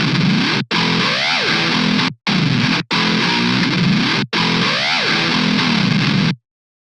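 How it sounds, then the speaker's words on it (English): Modern metal electric guitar pushed through extreme, ugly distortion with phaser-like sweeping effects, loud and dense in several chopped bursts separated by abrupt silent gaps. "This one, just get the distortion ridiculous."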